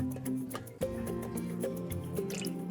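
Apple cider vinegar is poured into a glass of lemon water, a brief trickle and a few drips with a small splash near the end, set under continuous background music.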